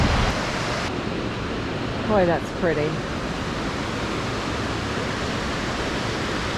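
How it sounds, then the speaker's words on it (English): Eagle River water flowing near Lake Superior in Michigan's Upper Peninsula, a steady broadband rush like a waterfall or rapids that continues throughout, with a brief spoken comment partway through. "This is the Eagle River."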